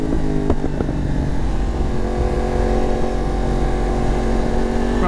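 A 2022 Yamaha MT-10 SP motorcycle rides loudly through downtown Dallas, its engine droning close and steady at a high pitch with a brief rev near the start, heard without talk.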